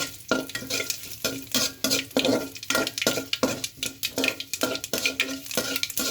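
Vegetables frying in oil with ginger for a vegetarian dish, with rhythmic stirring and scraping in the pan over a steady sizzle, close and moderately loud, with no talking.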